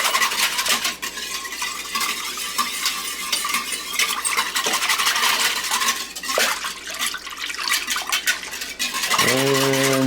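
A spoon scrapes and churns steadily through Swedish meatball mixture in a crockpot, a loud, continuous wet stirring with occasional clinks against the pot, heard up close with no talking.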